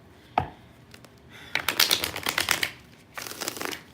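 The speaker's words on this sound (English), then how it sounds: "I need to shuffle these cards again." Tarot cards shuffled by hand, a sharp tap followed by a run of quick close riffling flicks, then a second shorter burst of shuffling after a brief pause.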